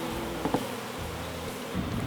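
Honeybees swarm around a wooden hive box during a colony removal in Brazil, their close, continuous buzzing humming steadily, with a couple of brief knocks early on and no talking.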